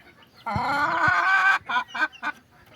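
A red junglefowl gives a drawn-out nasal call followed by three short clucks, close and fairly clear in a quiet outdoor setting.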